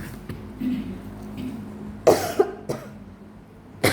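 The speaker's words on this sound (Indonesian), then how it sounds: "Sekarang giliran saya yang batuk." Several short coughs and a throat-clear from an adult speaking Indonesian, close by, spaced irregularly over a few seconds against a quiet room.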